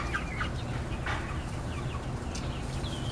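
Roosters cluck and call in a farmyard standoff, with several short clucks and crowing-like calls rising over a steady low background hum, fairly close but not loud.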